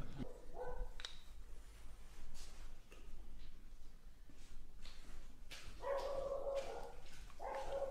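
A dog barks in short repeated yips and whimpers at moderate distance in a luthier's workshop on Lanzarote, heard alone over faint room noise.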